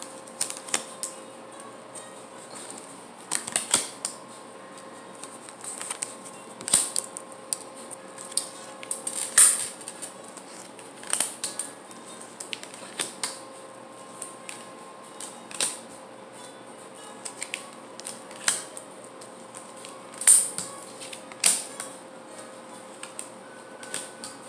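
Tarot cards handled at close range during a reading: soft papery slides, flicks and taps of the deck being shuffled and drawn in irregular bursts with quiet gaps, no talking.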